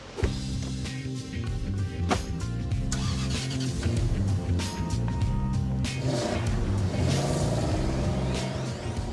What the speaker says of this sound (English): the engine's smooth and quiet